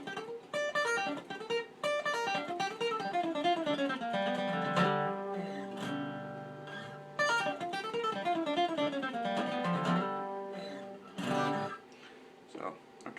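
Bluegrass flatpicked acoustic guitar playing a reverse sweep lick at full speed, quick runs of bright plucked notes in two close phrases separated by a brief pause, played alone and up close.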